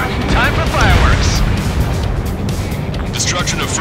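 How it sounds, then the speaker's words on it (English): A bunker buster bomb slams into a missile silo in the Ace Combat 7 video game, a loud, sustained rumbling blast with booming bursts, heard under voices talking. "The bunker buster hit its mark. Time for fireworks."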